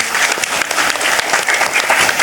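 An audience at an Islamic religious study gathering in Temanggung claps loudly, a dense, continuous burst of applause from a large crowd that holds at full strength throughout.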